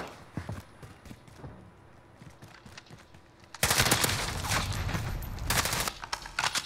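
Sustained automatic gunfire in a Modern Warfare multiplayer match, RAM-7 and Holger-26 rifles in play, with scattered shots and footsteps first, then a loud dense burst of rapid fire from about the midpoint onward.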